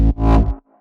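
A single synth bass hit from a dance track drop, shaped with a slow attack so it swells in as if reversed, then stops abruptly; short, loud and dry, with a faint tail afterward.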